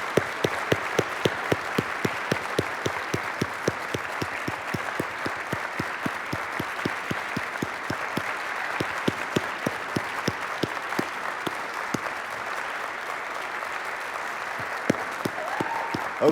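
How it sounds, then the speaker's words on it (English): An indoor audience at an awards ceremony for climate grand prize and honorable mention winners claps continuously for the whole stretch, a dense, even, fairly loud applause with a few rhythmic claps standing out near the microphone. "let's have one more round of applause for all of our grand prize and honorable"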